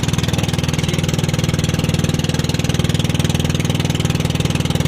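A loud boat motor engine runs steadily with a low, rhythmic throbbing drone, constant throughout without any speech.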